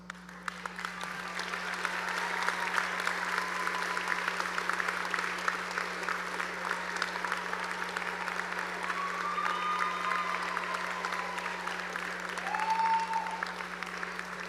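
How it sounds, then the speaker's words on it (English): Standing graduates at a high school graduation ceremony applaud their loved ones in the audience, a broad, steady wash of clapping lasting throughout, with a faint background hum beneath. "would you please stand and give the audience, give your loved ones a round of applause."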